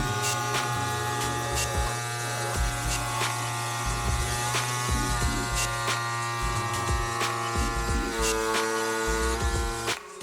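Cycplus Tiny E Pump, a compact electric bike pump set to 60 psi, buzzes steadily and loudly as it inflates a bicycle tire, a continuous motor drone with faint clicks and no talking over it.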